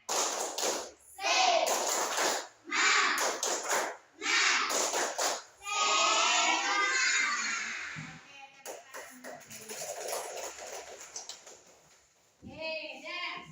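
Children in a classroom perform a rhythmic clapping chant, bursts of group claps alternating with chanted voices and shuffling, ending in a final round of clapping.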